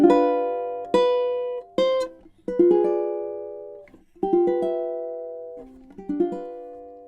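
Christmas ukulele strumming of measures 29 and 30: a steady run of about eight close chord strums, some short and damped, others left ringing, played alone without talk.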